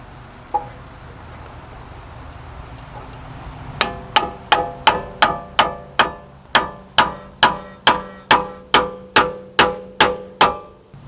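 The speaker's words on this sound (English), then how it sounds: "this fork goes in between the ball joint, and you drive it with a hammer, and that's going to separate the ball joint" A hammer driving a pickle fork between a ball joint to split it during coil spring work on a Workhorse P32 chassis, about fifteen loud, sharp metallic strikes at a steady rhythm after a single early tap.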